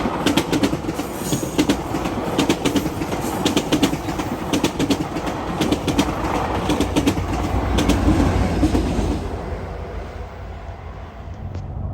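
A passenger train led by MP40 locomotive 655 with ten passenger cars rolls past, giving a sustained rumble with rhythmic clickety-clack from the wheels that fades toward the end.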